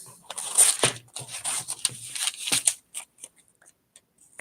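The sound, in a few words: scissors cutting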